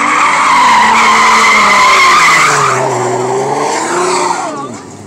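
An Infiniti G35 spins its tires with a loud, sustained squeal of rubber over revving engine, the pitch wavering and dropping near the end, while people talk over it.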